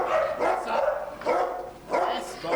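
Dogs at a dog training session barking in repeated loud close bursts, three main volleys with short pauses between.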